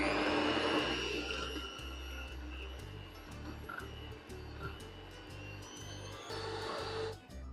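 An electric hand beater whips cream with about a tablespoon of sugar, a steady close motorized whir with rhythmic pulsing from the beaters that cuts off near the end.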